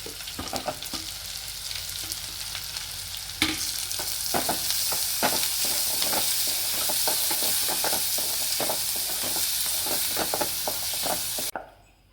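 Onions and green chilies fry in a pan for a red sauce pasta, giving a steady close sizzle broken by scraping stirring strokes that cut off abruptly at the end.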